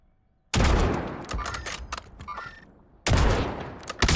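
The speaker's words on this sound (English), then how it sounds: "We're getting sniped at from somewhere." Sniper gunfire in the video game Call of Duty Black Ops 6: two loud, close sharp bursts of shots roughly two and a half seconds apart, with rattling reverberant echoes and scattered impacts between them.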